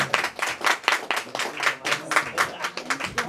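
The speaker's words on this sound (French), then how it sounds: "Et messieurs, un applaudissement pour monsieur Salaire." An audience applauds for a performer at a French singing show, with rapid, dense clapping sustained throughout and a voice briefly heard over it.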